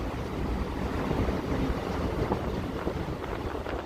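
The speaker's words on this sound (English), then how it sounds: "Oh, it's getting windy again." Wind buffeting a microphone outdoors on the Las Vegas Strip at night, a continuous rough rumbling gust noise with no talk.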